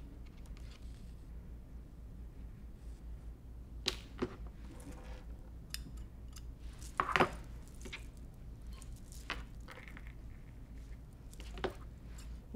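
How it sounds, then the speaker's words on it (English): Scissors snip off loose cross stitch threads in a quiet room, giving a handful of sharp, isolated clicks and snips spread out over several seconds. "Cut off some of these extra threads"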